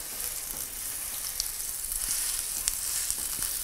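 Rice fries in a pan in a home kitchen, giving a steady, close-up sizzle with a hissing crackle and a few small pops and stirring clicks.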